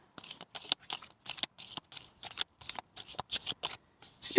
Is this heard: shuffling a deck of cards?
yes